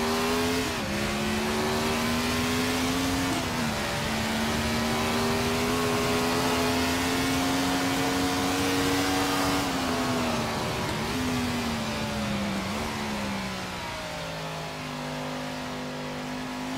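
A Grand Prix Legends vintage race car in Assetto Corsa drones with a loud, steady engine note that rises through the revs, dips at gear changes including a fumbled shift, then settles lower.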